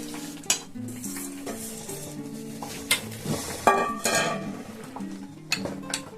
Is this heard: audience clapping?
no